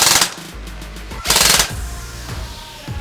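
An airsoft rifle fires full auto at about 20 to 22 rounds per second in short loud bursts, a rapid mechanical buzzing rattle close up, separated by brief pauses with motor whine.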